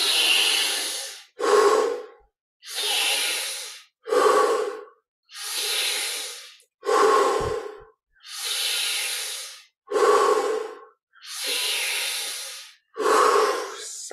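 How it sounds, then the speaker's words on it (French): Intense, deep breathing during Kriya Yoga meditation: about ten loud, forceful inhale-exhale cycles, each a long rushing breath separated by short pauses, close up and steady in rhythm. "pour les 10 dernières, on augmente l'intensité de la respiration"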